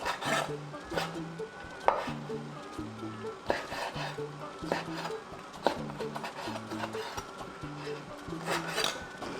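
A knife chops food on a cutting board in a kitchen, a run of repeated close knocks and scrapes at an uneven rhythm, with faint background music.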